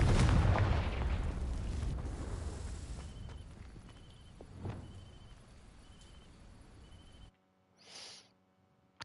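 A Confringo blasting spell exploding in the game Hogwarts Legacy: a loud, deep boom that fades into a long rumbling tail, then near-silence before a brief faint whoosh.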